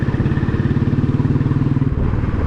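Motorcycle engine running steadily as it rides along a road near Valparai, a loud, close, even drone with a rhythmic pulse that cuts off sharply near the end.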